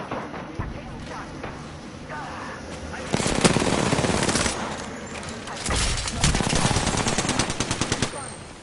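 Gunfire in a PS4 shooter game: bursts of automatic fire, some quieter and distant, then louder, closer sustained volleys that rattle on through most of the stretch.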